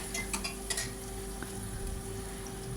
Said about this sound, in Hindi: अब मैंने छोंक डाल दिया है, गरम तेल हो रहा था तो ये फटाफट से भुन जाएगा।